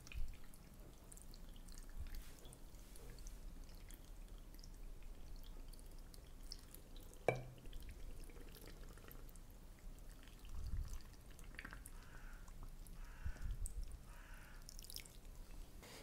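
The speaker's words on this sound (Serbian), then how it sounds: "I sipat ćemo vodu u teglu da prekrije kupus." Cold water mixed with pepper and garlic is poured into a glass jar of cabbage for pickling, heard as faint, quiet drips and a couple of short pouring trickles against low background noise.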